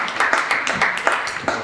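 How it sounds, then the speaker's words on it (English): Clapping from the audience at a live podcast show, a short burst of scattered, distinct hand claps at moderate loudness, fairly close, with no talking over it. "Everybody, round of applause."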